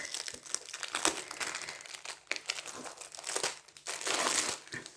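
A plastic-wrapped Temu diamond painting kit (30 by 40) is opened with crinkling, rustling plastic wrap in irregular close bursts and tearing crackles throughout, with no talking.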